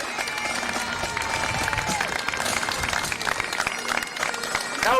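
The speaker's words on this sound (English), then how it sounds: "We'll give them a big round of applause." A crowd applauds the Cullenkill team at the reopening of the Monaduff GAA grounds, clapping and cheering steadily for several seconds with crowd noise and indistinct voices mixed in.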